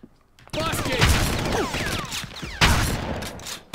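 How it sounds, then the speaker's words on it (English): Shotgun blasts in the Red Faction shooter game, a loud sharp burst followed by a rattling volley and another heavy shot near the end, with chirping effects in between and no speech. "Yep, shotgun."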